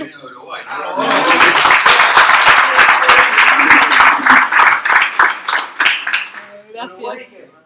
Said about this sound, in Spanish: un aplauso que se viene de Uruguay